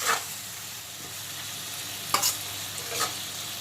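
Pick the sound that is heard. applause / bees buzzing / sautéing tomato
sautéing tomato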